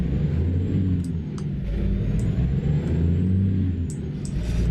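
A truck in a trucking game rolls along with a steady, loud low engine rumble and road drone, with faint clicks and short hisses here and there and no talking.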